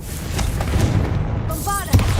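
In Hogwarts Legacy a Confringo fire spell strikes, producing a booming, crackling blast over rumbling game ambience, with a sharper impact near the end.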